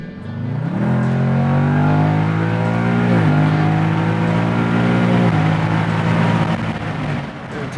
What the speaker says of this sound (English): let's listen to this tranny bang off some shifts with the windows open